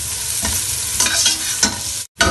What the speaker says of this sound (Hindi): और ये अब लहसुन इसमें डालूंगी।